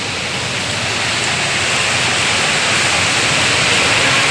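Floodwater rushes down from higher ground toward SM Marilao in Bocaue, a loud, steady, close roar of churning water that never lets up, with no one talking.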